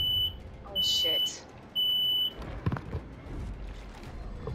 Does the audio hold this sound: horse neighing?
no